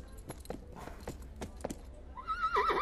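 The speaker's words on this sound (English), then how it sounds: "Horses ready." A horse in a TV advert, with hooves clip-clopping in distinct beats, followed by a loud, close whinny at the end.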